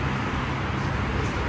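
Steady, loud roar of passing cars on a busy road in Qassim, a continuous wash of close traffic noise with no distinct breaks.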